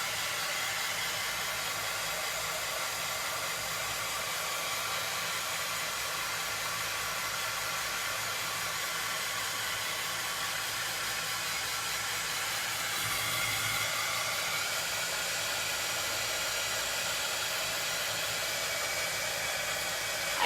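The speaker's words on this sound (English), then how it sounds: "I'm going to come back in with my heat tool, and I'm going to try and get this dried up a little bit more" Heat tool blowing steadily to dry Mod Podge on a buffalo plaid farmhouse chicken craft, a continuous close, even airy whoosh and hiss that holds throughout with only a slight swell partway.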